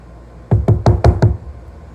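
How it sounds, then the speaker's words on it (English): Glass jars packed with bread and butter pickles are banged on a kitchen counter: five loud, close thuds in a quick, even rhythm. "I like hitting them on the counter just to see how many more I can get in there."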